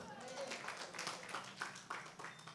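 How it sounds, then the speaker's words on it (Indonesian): Faint audience applause at a stand-up comedy show on Kompas TV Palembang, a distant, uneven patter of clapping heard under a comedian's continuing talk. "Tepuk tangan dulu dong"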